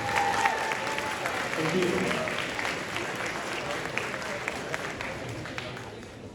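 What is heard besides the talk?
audience applause at robotics event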